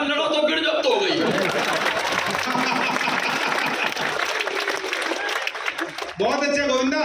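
Sustained applause from a Hindi poetry recital audience, a dense wash of clapping lasting several seconds, bracketed by someone speaking before and after it.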